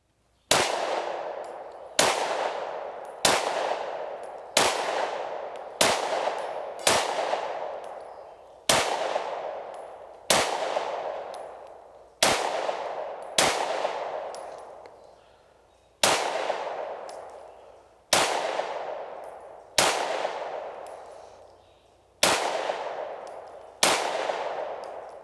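A Smith & Wesson 30 Super Carry pistol fires about fifteen loud, sharp shots in an uneven sequence, each a crisp crack with a ringing decay, with short pauses between groups, outdoors and close.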